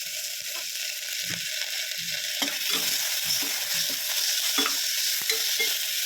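A spoon scrapes and stirs through tomato and turmeric frying in a pan for Tamil avarai-bean curry, with intermittent clacks over a steady sizzle. No one speaks.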